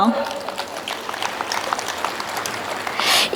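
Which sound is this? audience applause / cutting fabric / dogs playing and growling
audience applause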